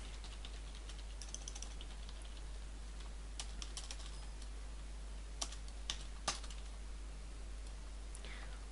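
Computer keyboard typing during a SourceMod coding session, light scattered key clicks with a few sharper taps, fairly quiet over a steady low hum.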